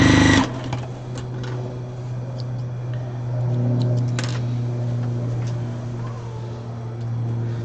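A sewing machine stitches fabric scraps together in a steady, humming run after a short opening burst, with small clicks and handling noises scattered along and the motor pitch rising slightly midway.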